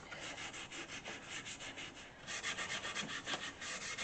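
An electric sander works over wood during restoration in a workshop, giving a close, rhythmic rasping scrape that pauses briefly and then resumes louder.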